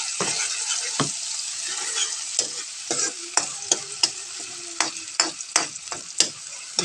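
Garlic and onion sauté in a hot pan with a bright, steady sizzle, while a spoon scrapes and taps the pan in repeated, uneven strokes close by.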